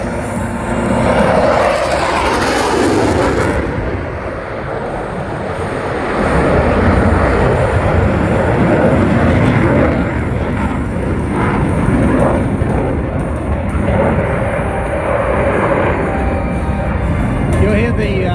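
An RAAF F/A-18 Hornet fighter jet flies a display at the Wings Over Illawarra 2021 airshow, its loud, continuous engine roar filling the whole stretch and swelling and easing slightly as it passes.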